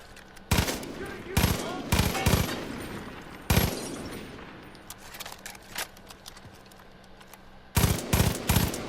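Bursts of automatic gunfire from piercing ammo in the video game Far Cry 5, several sharp rapid volleys separated by pauses, loud and close, with faint game ambience between them.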